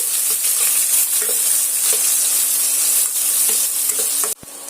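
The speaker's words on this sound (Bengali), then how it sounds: "পেঁয়াজটা আমি এখানে সুন্দর করে লাল লাল করে ভাজা করে নেব একটু" Chopped onions sizzle steadily in hot oil in a pan while being stirred for an egg and potato dish, a loud continuous frying hiss with faint scraping stirs, cutting off abruptly near the end.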